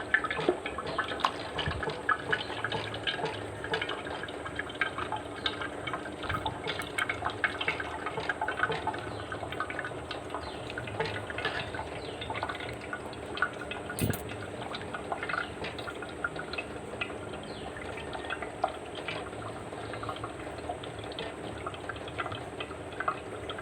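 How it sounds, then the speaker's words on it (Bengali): Water drains from freshly washed leafy greens held in a basket in a village home, a soft continuous trickle with scattered small drips, fairly quiet and steady throughout. "তাই ঝুড়ির মধ্যে রেখে জলটা ঝারিয়ে নেব।"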